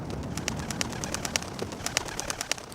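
Pigeons outdoors give short, sharp chirps and clicks at an uneven, steady pace, moderately loud over a constant background hiss, with no talking.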